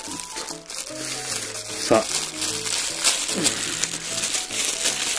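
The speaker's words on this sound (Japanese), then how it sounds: "あんまり近くでね、言うとね、ガサガサがね、うるさいくなっちゃうんですよ。" Packaging crinkles and rustles as an anime goods lucky bag is opened, irregular close crackles under a man's speech and soft background music.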